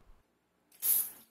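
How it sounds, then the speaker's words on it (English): A short, sharp hiss of water from a toilet-seat bidet spray bursts out after a brief silence and lasts about half a second. "Let me check our bidet spray if there's any water restriction."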